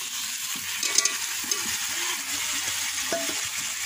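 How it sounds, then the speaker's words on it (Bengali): Potatoes go into chicken sautéing in a pan, giving a steady close sizzle with scraping stirring strokes and a few soft clinks, no voices. "আধা ঘন্টা ভালোভাবে কষিয়ে নেব। এবার দিয়ে দিচ্ছি আলু।"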